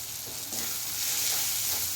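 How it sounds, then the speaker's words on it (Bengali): Fish roe gravy with gram flour fries in a pan, giving a steady, close hiss and sizzle that swells slightly as it is stirred, with no voices. "বেসনটা দিয়ে কিন্তু খুব ভালো করে ভেজে নিতে হবে"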